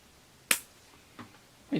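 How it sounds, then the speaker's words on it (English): Sharp clips of pruning shears cutting a lower branch on a bougainvillea bonsai: three brief, crisp snaps close by, the first the loudest, spaced out in a quiet setting. "I'm going to start by pruning this lower branch off close to the base of the new shoot."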